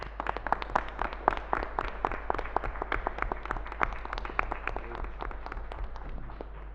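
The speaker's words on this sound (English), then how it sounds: "A big round of applause, please." A seminar audience at a Union Budget finance bill session claps for the tax team, with distinct individual claps rising from a moderate crowd at a brisk, uneven rhythm over a low steady hum.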